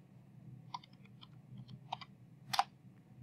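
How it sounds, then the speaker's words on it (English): A handful of scattered keystrokes on a computer keyboard, soft, close clicks with short gaps between them, one slightly louder tap near the end, over quiet room hum. "If you just start typing a number"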